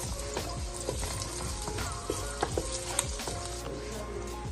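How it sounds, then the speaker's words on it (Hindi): Garlic sizzling in hot oil for pasta sauce, a steady close crackle with occasional spatters and faint scraping of a utensil stirring. "इसको सिर्फ 1 मिनट के लिए हमने इसे ऑयल में फ्राई करना है"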